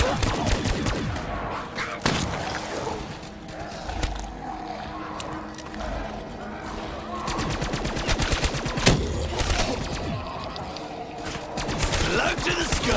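Rapid gunfire and bursts of automatic weapons fill a Call of Duty Black Ops 3 Zombies match on PS4, with loud repeated shots and thuds and game voices shouting in between.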